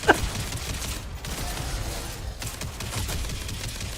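Rapid gunfire from ship weapons in the space game Elite Dangerous, a sharp burst at the start followed by steady dense crackling fire, loud and continuous under game noise.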